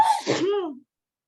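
A single loud sneeze, sharp burst then a trailing vocal tail, close by, followed by silence.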